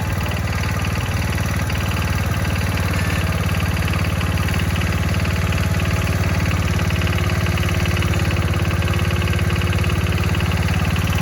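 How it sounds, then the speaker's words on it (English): Engine of a 140H1 tractor running steadily at idle while the hydraulic lift is worked, with a constant loud, close rumble and vibration that does not change. "Let's check that hydraulic lift. Let's see if the lift works."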